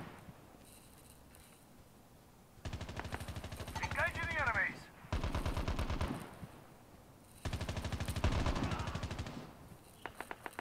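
Rapid automatic weapon fire in the Call of Duty Mobile battle royale game comes in three long, loud bursts, separated by short pauses, with a player's voice talking over the shooting.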